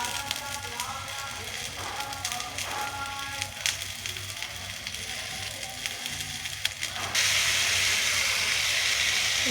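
Ground red mustard and ginger paste hitting a hot pan of vegetables, a steady hiss and sizzle with faint crackling, swelling louder toward the end.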